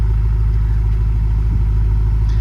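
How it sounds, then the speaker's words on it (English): A BMW F10 M5 with its stock exhaust idles steadily nearby, a low, even rumble holding constant for a couple of seconds with no revving and no voices. "here's a exhaust note of it just running with the stock exhaust"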